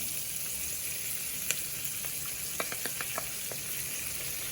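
Grated coconut fries in a pan for chutney with a faint, steady sizzle, and a few light clicks of a spoon stirring punctuate the hiss.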